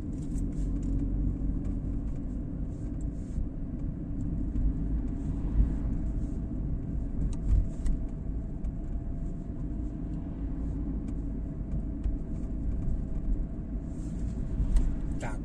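A car with a manual gearbox drives along city streets in Brno during a driving-school lesson, giving a steady, moderate low engine and road rumble throughout with occasional faint ticks and no distinct gear changes or peaks.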